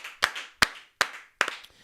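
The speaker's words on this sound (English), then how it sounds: "Give yourself an applause." Four crisp handclaps land at an even, unhurried pace, close up and alone in near silence.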